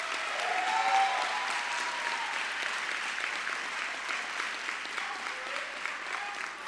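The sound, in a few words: applause at a graduation ceremony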